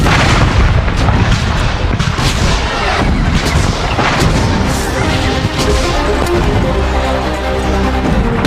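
Cannon and musket fire from a Civil War battle at First Manassas: dense, continuous volleys of booming artillery and crackling gunshots, loud and overlapping throughout with no pauses.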